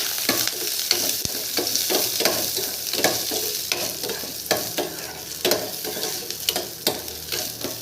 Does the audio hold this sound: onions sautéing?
yes